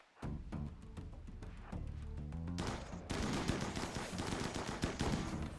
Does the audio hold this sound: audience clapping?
no